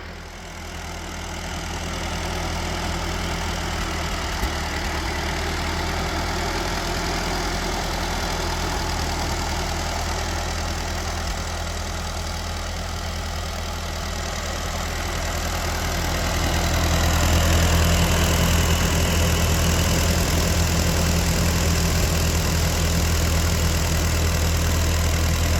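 An old Ford tractor that sat rained on for years idles close by with a steady, rough, low chugging that grows slightly louder and heavier toward the end, with no talking.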